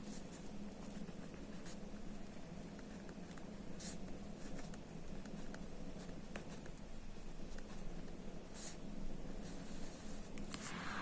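A pen moves across paper in short scratchy strokes while a table is written out by hand, close and quiet, with no talking heard.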